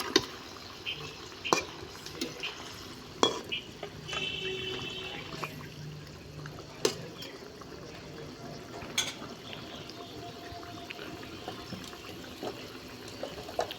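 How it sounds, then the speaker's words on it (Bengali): Mustard curry gravy for pabda fish simmers in a pan, giving faint scattered bubbling and sharp little pops over a quiet background. "ঝোলটা ফুটে এসছে, মাছ দিয়ে দেব।"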